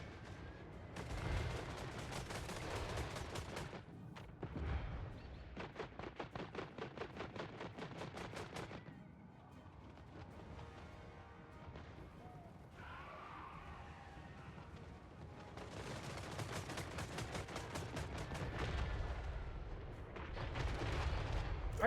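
Massed volleys of musket-style gunfire and artillery from army units in a Total War: Warhammer III battle, rapid rattling bursts at moderate distance alternating with quieter stretches of distant rumbling before the firing picks up again.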